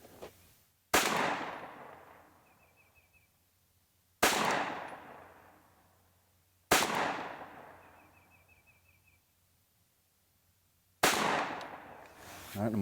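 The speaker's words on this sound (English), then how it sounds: "I'm going to continue to fire." Four loud, close shotgun blasts from a SAR USA K12 Sport, spaced a few seconds apart, each a sharp crack followed by a long, fading echo and quiet in between.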